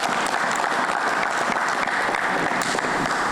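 Enthusiastic applause from a group after kickboxing training, steady dense clapping throughout with no talk over it.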